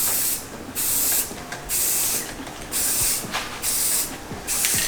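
Outdoors, a spray can coats mini bike parts white in repeated hissing bursts, about six sharp sprays of roughly half a second each with short pauses between them, close and loud.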